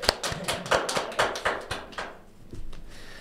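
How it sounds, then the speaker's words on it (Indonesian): Hand claps, about eight sharp irregular ones, loud and close, fading out by the end. "Tepuk tangan dong mas."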